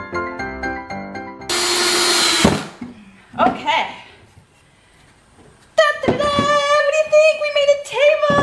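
A power drill drives pocket screws into wood in a short, loud whirring burst. Quieter tool noises and talking come before and after it.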